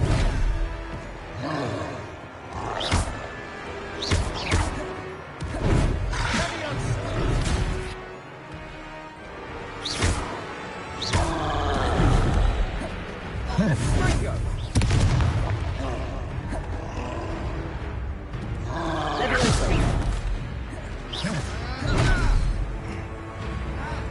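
Repeated explosive blasts and booms from fire spells cast in the Hogwarts Legacy game, several loud bursts with crashing debris spread across the stretch, with a voice speaking at times between them.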